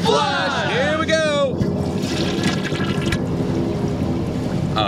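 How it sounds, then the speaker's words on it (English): A toilet flushes a bar of Dial soap, with a swirling rush of water and gurgles that start loud, then give way to steadier draining, while people talk over it. "Will it flush?"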